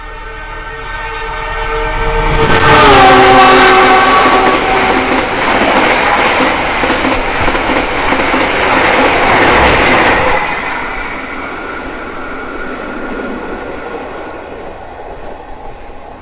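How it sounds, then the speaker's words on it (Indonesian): A Sancaka passenger train running between Yogyakarta and Surabaya, Indonesia, rushes past at speed, opening with a loud horn blast followed by a steady, roaring rumble of wheels and carriages for several seconds before fading away. "Barusan disusul Sancaka, kereta api yang sehari 4 kali menghubungkan kota Jogja dengan kota Surabaya"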